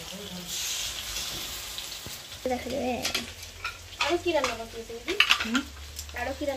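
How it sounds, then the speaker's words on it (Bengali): Small fish fry in a pan of oil with a soft sizzle while a utensil stirs and scrapes against the pan in short bursts, with a voice talking nearby. "তো এখন আমি অল্প কটা মাছ দিয়ে দেবো ছোটো মাছের থেকে"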